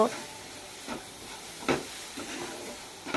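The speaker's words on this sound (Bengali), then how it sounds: "তারপরে আমি দিয়ে দিচ্ছি সেই আমের পাল্পগুলো আমি দিয়ে দিচ্ছি।" Mango pulp goes into a hot frying pan and is stirred, giving a faint, steady sizzle broken by several soft scraping strokes at irregular intervals.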